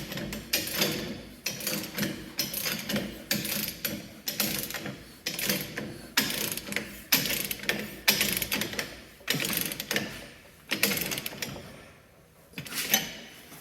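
A press tool is tightened to push a ball joint into a Jeep Wrangler, giving a series of repeated ratcheting clicks in regular bursts about a second apart, close and fairly loud, with short gaps between strokes.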